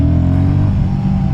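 A 400cc motorcycle engine pulls hard in second gear, a loud, steady, droning roar heard up close throughout the short stretch.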